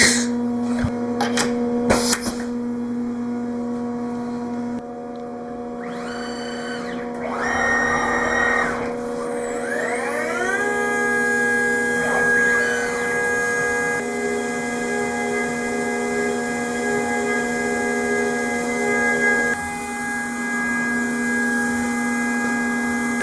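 A custom CNC machine running with a pneumatic tool change: a steady electrical hum with whining axis moves, clicks and bursts of air hiss, close and continuous, no talk.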